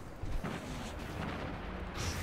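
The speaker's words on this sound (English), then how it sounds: "There's explosion going on over here" Explosions rumble in the shooter game Destiny 2, a short stretch of low, dense booms and bursts at moderate distance, with a sharper blast near the start and another swell at the end.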